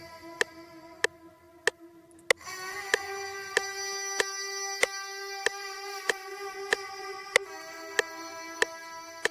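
A sustained vocal sample with a halftime effect applied over a sharp ticking beat, becoming louder and fuller partway through, with clicks steadily spaced throughout.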